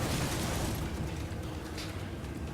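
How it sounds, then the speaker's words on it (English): Explosions in the Dead Rising zombie game, a dense, loud, sustained rumbling blast that fills the whole moment without letting up, with no talking. "they hear Carlito, then they hear explosions"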